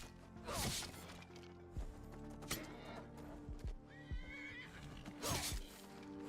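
A horse whinnies loudly twice, with hoof clops and scuffling thuds in between, no talking, from the video game Skyrim.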